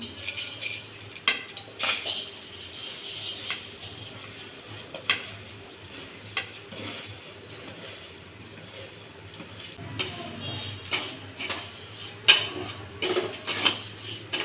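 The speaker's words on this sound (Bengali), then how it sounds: "এবার আমি কড়াইয়ের মধ্যে দিই চালগুলো দিয়ে আমি ভেজে নেব" Rice frying in a kadai, stirred with a metal spoon that gives intermittent scrapes and clinks against the pan over a low steady background, with occasional louder knocks.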